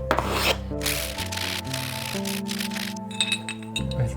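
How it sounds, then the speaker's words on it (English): Metal C-stand parts are sanded on the outside, giving a steady scratchy rasping that runs throughout over a sustained, stepping tonal background. "Sanding the outside is purely cosmetic"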